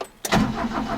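A 1988 Subaru car engine cold-starts with a sudden cranking burst that catches and settles into a steady, fairly loud idle, close by with no talk.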